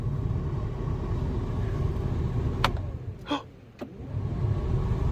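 Car engine idling after rework of an OBS wiring harness and dash, a steady low rumble throughout with a couple of brief higher clicks or squeaks near the middle, no talking.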